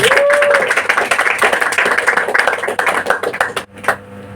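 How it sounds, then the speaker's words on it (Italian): Audience applause at a live tribute band concert, a steady patter of clapping hands lasting a few seconds before thinning out and fading. "Questo lo faccio solo per dire a mia mamma che ha ricevuto 5 applausi."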